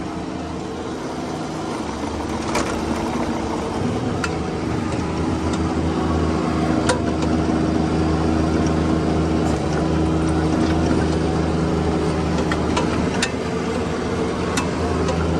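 A 2000 Bobcat 322 mini crawler excavator raises itself on its hydraulics, its engine and pump droning steadily and loudly the whole time with a few faint clanks on top.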